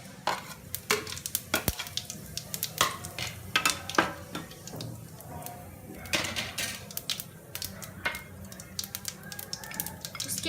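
Cumin seeds frying in hot oil for a mushroom and pea curry crackle with a soft sizzle, while a spoon clinks and scrapes against the pan in irregular sharp taps.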